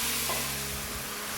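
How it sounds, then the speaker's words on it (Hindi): Prepared sugar syrup is stirred into roasted vermicelli in a pan, making a brief, steady sizzle with soft stirring noise close by. No one speaks. "मैं इसके अंदर तैयार किया हुआ शीरा मिक्स करने लगी हूँ"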